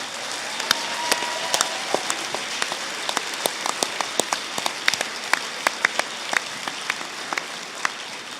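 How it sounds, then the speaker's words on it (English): An audience at a university graduation ceremony applauds in a steady wash of clapping, with sharp individual claps standing out close by throughout, and no one speaking. "they deserve a round of applause for everything they do"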